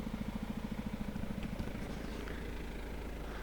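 A motorcycle engine putters nearby outdoors with a rapid, steady pulsing beat that fades after about a second and a half, leaving low background rumble.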